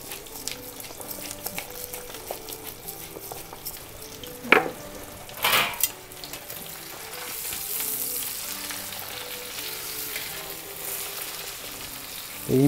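Beef chuck steak sizzles and fries in a pan with butter over raised heat, a steady close crackle with a few louder spitting bursts midway and a rising hiss toward the end, no voices.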